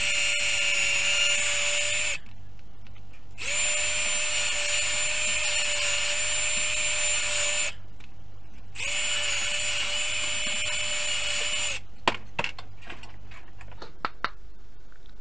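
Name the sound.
drilling holes in a wooden board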